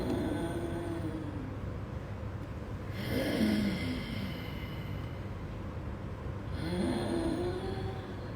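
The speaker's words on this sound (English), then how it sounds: "Inhale." Deep, slow inhalations during pranayama yoga breathing, three drawn-out breaths with a rough, airy, snore-like texture, close and fairly loud over a faint steady background.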